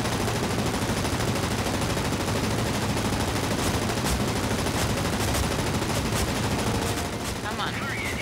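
Sustained gunfire from the World of Warplanes aerial combat game, dense rapid machine-gun bursts roaring without pause across the whole stretch, loud and close, with faint talk underneath.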